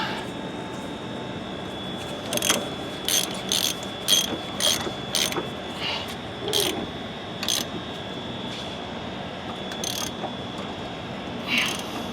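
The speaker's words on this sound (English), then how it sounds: "And then we'll get a ratchet on this." Ratchet tightening leveling kit bolts on a 2017-2022 Ford Super Duty, a series of sharp clicking bursts in uneven clusters over a steady background hum, fairly close, with no talking.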